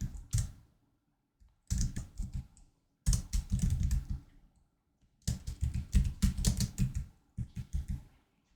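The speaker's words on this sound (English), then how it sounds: "And in here, I'll just type the date." Typing on a computer keyboard, bursts of quick, close key clicks separated by short pauses, with no talk.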